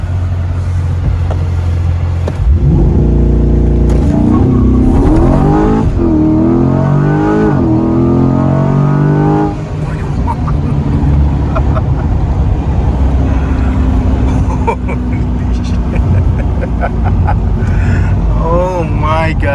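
A 2021 C8 Corvette launches hard through a 0 to 60 mph run, its engine note rising loud and close across several climbing revs with tire slip. Excited voices talk over the engine near the end.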